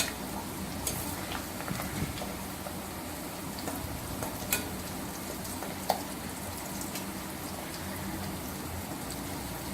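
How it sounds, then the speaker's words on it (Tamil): Homemade hair oil fries in a pan while its ingredients soak and turn greenish, giving a steady, low crackling sizzle dotted with small pops and sharp spits, with no talking. "இது நல்லா சோக் ஆகி ஃப்ரை ஆகி இந்த கலர் க்ரீனிஷாக மாறுற வரைக்கும் வெயிட் பண்ணுங்க"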